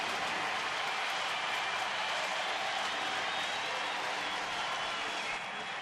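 A big baseball stadium crowd of about 29,000 roaring and applauding after the Indians' walk-off win over the Yankees, a dense, sustained wall of cheering and clapping throughout.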